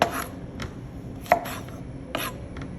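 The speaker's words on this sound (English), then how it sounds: "don't cut them too thin, okay? And we can make them into half moons." A knife chops zucchini into half moons on a board with a few separate, sharp, close knocks spaced irregularly, with faint sizzle-like hiss between cuts and no voices.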